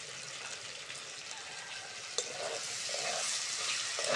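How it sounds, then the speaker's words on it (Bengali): Ginger garlic paste sizzles steadily in hot oil while cooking for a spicy prawn and potato curry, a constant close hiss that grows slightly louder and denser toward the end. "আদা রসুনটাও ভালো করে ভেজে নেব।"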